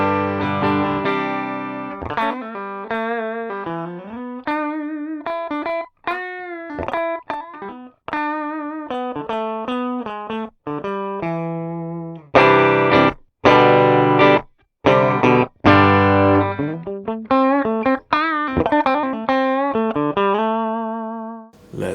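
Electric guitar played through an S-Gear Duke amp simulation, a run of picked single notes and bends with short staccato bursts and pauses, close and clean-to-crunchy in tone, no voices.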